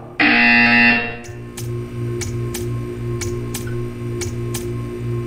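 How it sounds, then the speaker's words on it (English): A loud harsh buzzer sounds for about a second in the Portal 2 video game, followed by a series of evenly spaced sharp ticking clicks over a low mechanical hum. "You will hear a buzzer."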